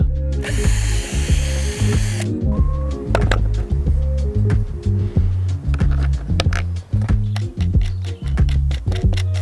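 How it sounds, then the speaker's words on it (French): A power drill with a 4 mm bit enlarges mounting holes for a P17 230V socket in a converted VW T5/T6 van, a loud, close, low motor whine broken by repeated bursts, stops and clunks. "je vais agrandir mes 4 trous avec une mèche de 4"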